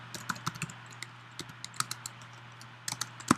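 Java code being typed on a computer keyboard, with sharp close key clicks in quick uneven bursts and short pauses between them, no voices.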